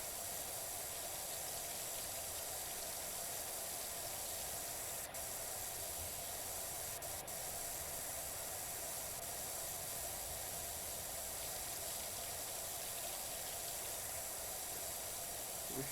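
A steady high-pressure cleaning spray from a power washer in the video game Power Washer Simulator, a continuous bright hiss that runs unbroken and evenly loud with no talking.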